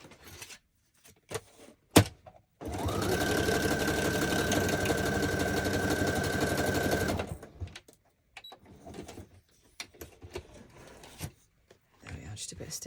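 A sewing machine stitches through scraps of paper ephemera, running steadily for about four seconds with a loud, close mechanical whir, framed by handling noises and brief clicks before and after.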